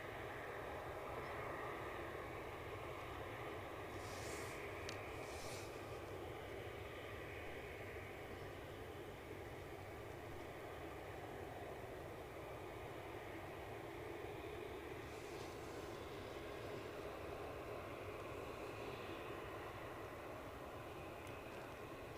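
Aircraft engine at Edinburgh Airport, a steady distant jet roar that holds at a constant level for over twenty seconds with no speech.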